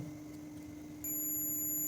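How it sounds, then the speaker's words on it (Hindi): A multimeter continuity tester sounds while probing the negative side of a Stranger PVT 701 amplifier channel under repair, a steady high tone that switches on midway and holds, faint and close. "देखिए इसमें फुल बीप आ रहा है।"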